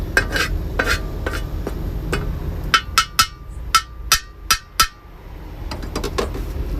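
A sweet dish made from three ingredients being mixed and scraped in a pan, with repeated sharp spoon scrapes and knocks against the metal over a soft sizzle, close and fairly loud.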